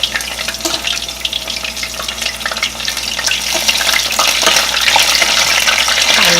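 Homemade seafood ravioli deep fries in hot oil, a steady, dense crackling sizzle that grows slightly louder over the few seconds, with no voices.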